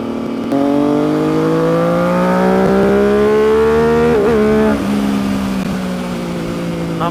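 An MV Agusta motorcycle engine revs steadily upward through the mid range, its pitch climbing smoothly with a brief dip partway through, loud and close with no talking.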